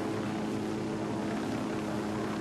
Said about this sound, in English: Oh, there's a helicopter too.